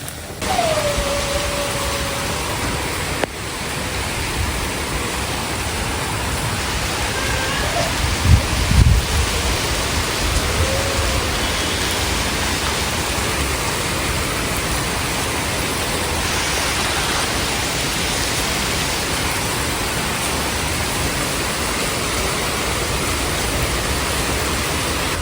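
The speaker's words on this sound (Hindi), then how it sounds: "मैं बता नहीं सकती कितना ज़्यादा बारिश हो रहा है।" Heavy rain pours in a steady, dense hiss throughout, loud and unbroken, with a faint thump or two early on and no talking.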